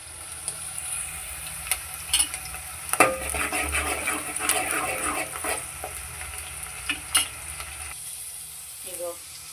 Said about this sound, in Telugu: ఇగో ఉల్లిపాయ పచ్చిమిర్చి అయితే వేగినాయి.